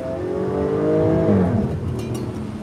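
A 2021 Jaguar F-Type P380 R-Dynamic convertible engine revs loudly and then drops in pitch as the throttle lifts on downshifts, with exhaust burble and a few crackles on the overrun.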